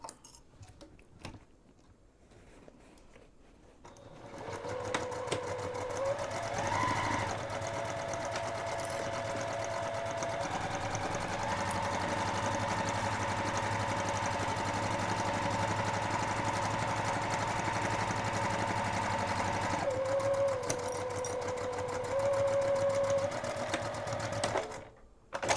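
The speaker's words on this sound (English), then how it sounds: "sew your seam on the inside of the lining or inside of the bag" A sewing machine runs steadily for about twenty seconds, stitching the seam of a boxy bag on the inside of its lining, after a brief quiet start, with a whining tone that shifts pitch midway.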